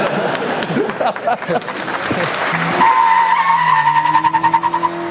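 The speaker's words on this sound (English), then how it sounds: "A lot of wheel spin." Formula 1 car spinning its wheels, tyres squealing and skidding under a loud, high engine note that settles into a sustained whine, with bursts of crowd noise and voices alongside.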